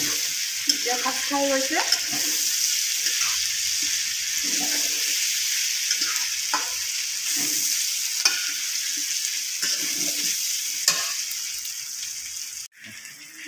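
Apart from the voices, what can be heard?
stirring mutton curry in a pan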